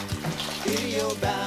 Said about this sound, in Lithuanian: Ant bulvių užpilam verdantį vandenį,